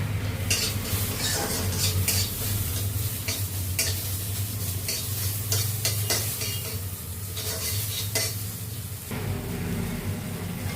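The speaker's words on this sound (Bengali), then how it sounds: "তো এখানে আমার আলুটা আর পেঁয়াজটা ফ্রাই হয়ে গেছে" Potato and chopped onion fry with turmeric in a pan, giving a loud continuous sizzle close up, broken by frequent scraping and clattering of a spatula stirring against the metal, with no talk.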